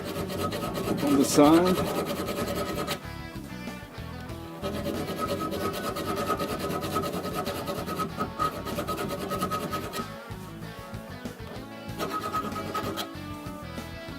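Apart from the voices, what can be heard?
filing off weld spatter from a quick clamp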